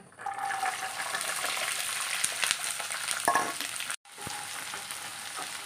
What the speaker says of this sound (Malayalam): നമുക്ക് വെളുത്തുള്ളി ചേർത്ത് കൊടുക്കാം ഒന്ന് വഴറ്റിയെടുക്കാനാണ് ഒരുപാടൊക്കെ വെന്ത് പോകണ്ട ചെറുതായിട്ടൊന്ന് വഴറ്റിയെടുക്കാം